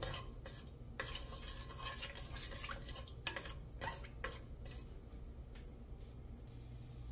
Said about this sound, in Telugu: హోల్ గరం మసాలా వేస్తాను. అది ఫ్రై చేసుకోవాలి.